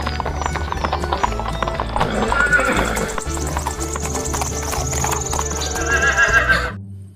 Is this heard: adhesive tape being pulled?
no